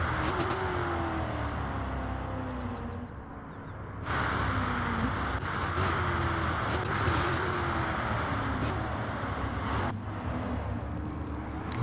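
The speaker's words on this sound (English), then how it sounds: "Lovely to hear that noise of the car shifting down, braking hard for turns 4." A race car in a sim-racing Festival of Speed event drops through the gears and brakes hard for turn 4, its engine note stepping down repeatedly in a steady, loud, close drone with no talk.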